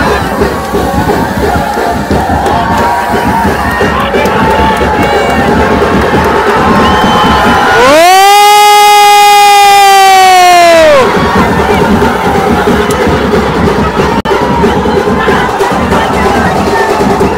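A large crowd at a village festival of 200-foot wooden poles cheers and shouts loudly and continuously, with a strong sustained horn-like tone rising over the roar for a few seconds midway.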